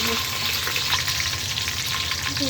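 Chopped onion frying in hot oil with whole spices for khichuri, a loud continuous close sizzle with faint scraping of stirring.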